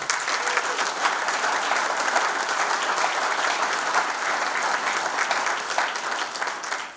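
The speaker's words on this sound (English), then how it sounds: "Please join me in giving these entities a big round of applause" Sustained, loud crowd applause at a hall of fame enshrinement ceremony, thick and even from start to finish before fading at the very end.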